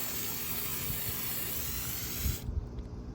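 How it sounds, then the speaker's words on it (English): Continuous hiss of an aerosol spray can being sprayed onto a Raptor 700 ATV during sanding and refinishing, held steadily for over two seconds before cutting off abruptly. "But we finna spray some of this all over here."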